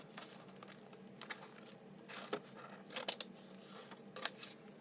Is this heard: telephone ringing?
no